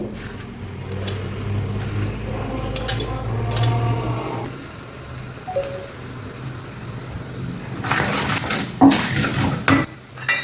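Chana dal and urad dal fry in oil in a pan with a steady sizzle, while a utensil clinks and scrapes against the pan, loudest near the end.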